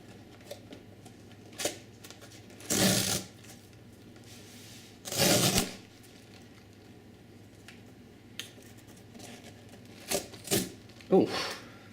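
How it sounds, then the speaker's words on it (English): Motorola Moto X phone being unboxed, packaging handled and opened in a quiet room, with a few short rustling and scraping bursts, two longer, louder ones, separated by near silence. "Let's unbox it."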